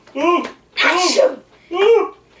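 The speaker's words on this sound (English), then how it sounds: "Achoo! Bless you, hippo." Three loud, close, voiced mock sneezes from a person acting them out in a playful animal game, spaced evenly with short pauses between.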